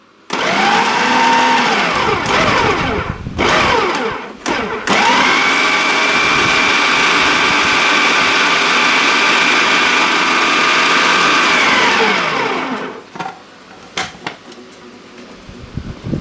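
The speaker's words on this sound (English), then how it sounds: "I'm just going to give this a try blending it now and hope it's not too hot" A blender purees vegetable tomato passata with a loud, close whirring motor roar. After a couple of brief stutters near the start, it runs steadily for about ten seconds and then cuts off, followed by a few light knocks.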